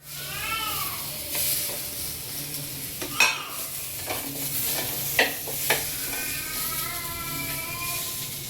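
Spices are stirred in a pan for a fish curry, a soft continuous sizzle broken by several sharp spoon scrapes and clinks against the pan.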